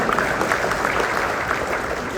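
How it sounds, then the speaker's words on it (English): Audience applause at a live gathering, a dense, steady burst of clapping from a crowd with some murmuring voices mixed in, heard up close throughout. "So let me I'll take that round of applause."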